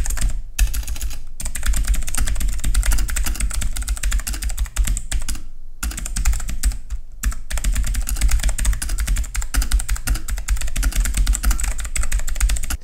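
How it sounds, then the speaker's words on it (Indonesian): Rapid, loud clicking of a mechanical keyboard with blue switches, an Aula 2088, typed close up in continuous bursts with a few brief pauses. "Sekarang saya sedang menggunakan mechanical keyboard blue switch, jadi bunyi dia kuat sikit lah."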